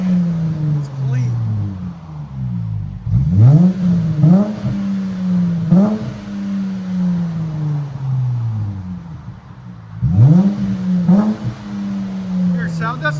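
A 2019 Dodge Challenger GT with a 3.6L V6 and Netami turbo resonator revving close by, engine pitch climbing sharply in several blips and falling back to a steady drone, with someone talking over it.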